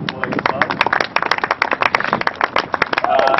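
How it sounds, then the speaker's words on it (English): Audience at a football coaching conference session applauding players, a burst of dense clapping that carries on for a few seconds, with some voices mixed into the noise. "so we can give them a round of applause before they get started."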